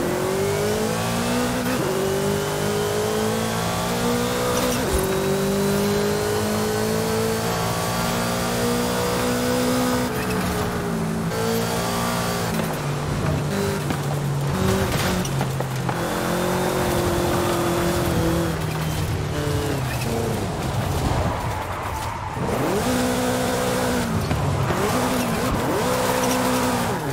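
Cars race through street driving in Forza Horizon 5, with engines revving up and down through gear changes and tires squealing in bursts, loud and continuous throughout.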